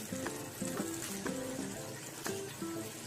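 Tandoori chicken pieces pan-frying in butter over gentle heat, a soft continuous sizzle with a few light clinks and scrapes as the pieces are turned, no one talking.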